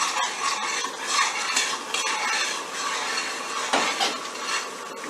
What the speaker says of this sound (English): I'm going to go ahead and just stir this slurry in, and you'll see it thicken pretty quickly